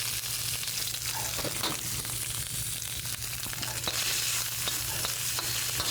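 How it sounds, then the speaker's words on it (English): Bacon sizzling and frying in a very hot wok, a steady dense crackle held close throughout with a low steady hum underneath and occasional stirring scrapes. "The wok is a little hot, but that's what you really want. We'll dump the bacon in."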